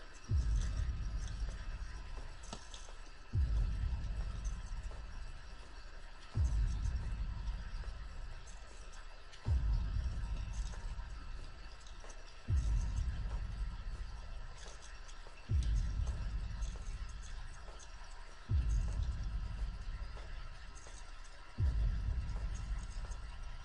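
Slow, heavy heartbeat-like thuds pulse about every three seconds over a constant low hum in the Slender Sanatorium horror game, each beat strong and booming in the foreground.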